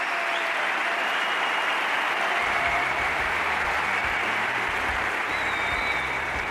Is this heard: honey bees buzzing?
no